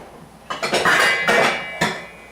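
A pot lid and pans clank loudly on the stove while tomato sauce cooks, giving a short burst of metallic knocks and ringing clatter, then one final clang.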